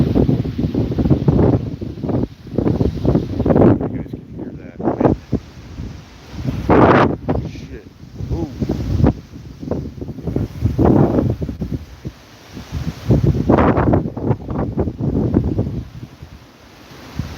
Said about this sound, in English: Still getting really terrific gusts of wind.